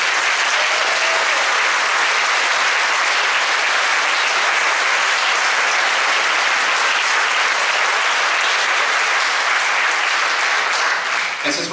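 Sustained, dense audience applause for a band at a school concert, loud and steady across the whole stretch with no speech, easing slightly only at the very end.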